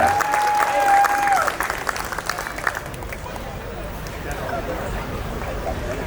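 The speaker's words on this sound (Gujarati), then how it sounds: "એકવાર ધડક તાળીઓ એમના સુધી પહોંચાડી દઉં." Audience applause at a sangeet night, a sustained wash of clapping from a crowd, fairly loud and steady throughout, with a brief tone at the start and crowd noise mixed in.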